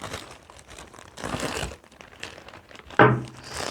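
A large cardboard parcel of goods ordered from China is opened up close, with brief crinkling and rustling of packaging, a sharp tearing or thunk near the end, and a voice speaking between the sounds.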